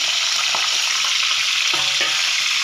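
Bell peppers cook in a covered pan over a medium flame and get flipped, giving a steady close sizzle of frying with a few soft scraping and stirring knocks, and no voices.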